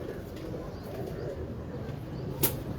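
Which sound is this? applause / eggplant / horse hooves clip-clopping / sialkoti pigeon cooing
sialkoti pigeon cooing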